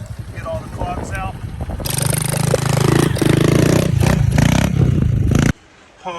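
A scrap-built three-wheeler with a Typhoon 124 engine and BW80 front end roars loudly as it revs up for a wheelie, engine note surging for several seconds before cutting off abruptly, with talk underneath.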